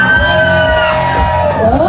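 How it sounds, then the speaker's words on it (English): A crowd at a haunted Halloween theme park show yelling and screaming loudly together, a dense continuous roar of voices with overlapping whoops sustained throughout. "let me hear you scream!"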